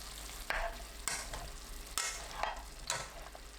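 Broccoli stirred in a pan makes a gentle sizzle broken by four or five crisp utensil scrapes and taps at roughly regular intervals, close but quiet.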